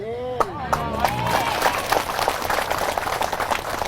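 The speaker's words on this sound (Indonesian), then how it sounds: "Jangan tepuk tangan dulu" An audience at a local gathering claps, a dense patter of many hands building after a voice speaks at the start and continuing under ongoing talk.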